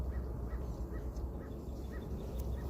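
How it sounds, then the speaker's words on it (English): Several short crow caws ring out at a distance over a steady wash of running water, spaced irregularly across the moment. "You can hear the crows"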